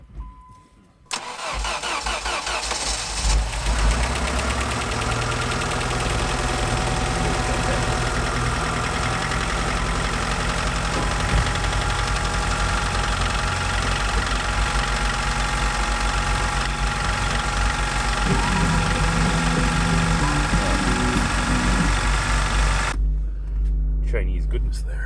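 First-generation Dodge Caravan engine cranking and catching on a cold start, then running at a loud, steady idle for over twenty seconds before cutting off.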